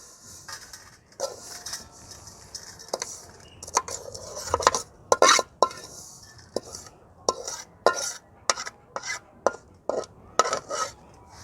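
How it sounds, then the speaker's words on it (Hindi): Dessert is taken off the heat and moved into a pot, producing irregular metallic clanks, taps and scrapes of a spoon against cookware, some close and sharp, with short quiet gaps and no talking. "अब उतार लेंगे और उसी बर्तन में निकाल लेंगे।"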